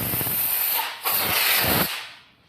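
Compressed air blasts through bicycle frame tubes to clear out dust, coming as two strong, steady hissing bursts of roughly a second each, separated by a short gap, close up and loud, then fading away.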